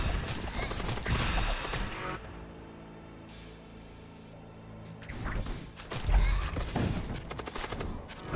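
Gunfire in the space combat game Void War, clusters of rapid shots at the start and end with a quieter humming lull between, fairly loud and close.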